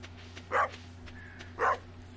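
Two short, evenly spaced dog barks from a pup in Stardew Valley ring out over a low steady hum.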